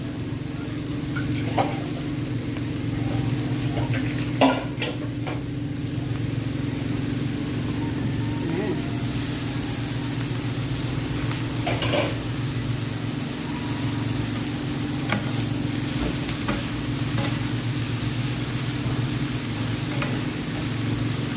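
Noodles and vegetables sizzle and scrape in a hot pan while rice harvesting machinery drones nearby, with occasional clanks of utensils.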